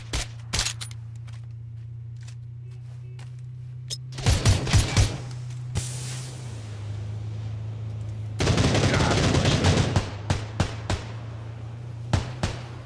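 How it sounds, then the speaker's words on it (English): Gunfire in the PUBG video game arrives as two bursts of rapid automatic fire, plus scattered single shots, over a steady low engine-like hum. The reports sound fairly close and loud, and brief talk passes between them. "Somebody else is shooting them."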